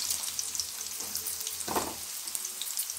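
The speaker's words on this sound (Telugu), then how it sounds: "ఈ ఆనియన్స్ అనేవి బ్రౌన్ కలర్ బాగా బ్రౌన్ వచ్చేంత వరకు కూడా బాగా డీప్ ఫ్రై చేయాలండి" Thinly cut onions and green chillies deep-frying in oil over a high flame for fish curry, a steady dense sizzle with one brief louder crackle partway through.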